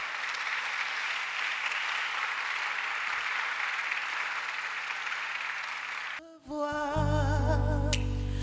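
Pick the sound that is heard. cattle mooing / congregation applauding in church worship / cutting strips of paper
congregation applauding in church worship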